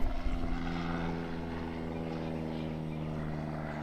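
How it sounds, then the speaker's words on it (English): A propeller airplane drones overhead, a steady low engine hum with clear harmonic tones holding loud and close throughout. "you hear the plane?"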